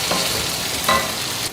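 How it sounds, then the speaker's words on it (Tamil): Capsicum stir-fries in oil with no water added, a dense steady sizzle with brief stirring scrapes, close and fairly loud. "இப்போது தண்ணி எதுவும் சேர்க்காம இருக்கிற எண்ணெயிலேயே நம்ம பெரட்டி போட்டோம்னா அது வெந்துடும்"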